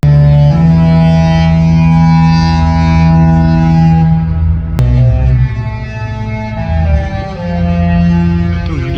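A cruise ship's horn playing a tune, loud and close: sustained deep brassy blasts shifting pitch from note to note, with a short break partway through and a fading final note.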